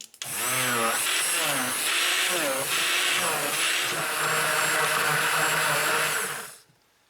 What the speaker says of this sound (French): Donc moi j'utilise un mixeur plongeant parce que c'est plus pratique pour moi